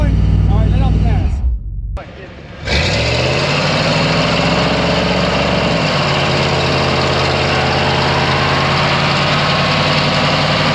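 A car engine revs loudly during a burnout, then drops off sharply as the throttle is released, dipping briefly before settling into a steady, loud engine drone that continues to the end.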